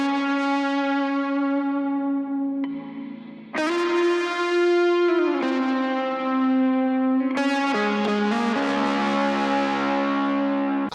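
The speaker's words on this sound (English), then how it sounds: "I made this really distorted electric guitar" Heavily distorted electric guitar run through a pedal board ending in a Rat distortion pedal, sustained chords with swelling, saturated tone and echoing tails, several chord changes played alone with no voices.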